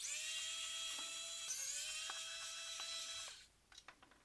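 A small electric screwdriver whines at a steady high pitch while backing screws out of a Logitech M550 mouse, then cuts off, leaving faint clicks and handling taps.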